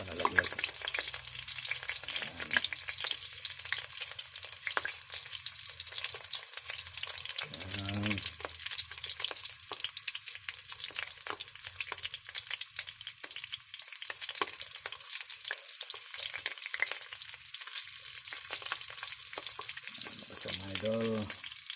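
Paksiw fish being refried in a pan over a wood fire, giving a steady, close sizzle and crackle that runs throughout, with occasional stirring clatter and no speech.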